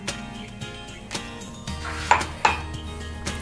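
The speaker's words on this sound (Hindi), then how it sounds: "कस्टर्ड जो मैंने लिया था 2 टेबल स्पून, उसमें 1/2 कप मिल्क ऐड करके इसे अच्छे से मिक्स कर लेंगे।" Two tablespoons of custard powder are mixed into half a cup of milk in a bowl, giving light, irregular clinks and scrapes of a utensil against the bowl, with two sharper clinks near the end.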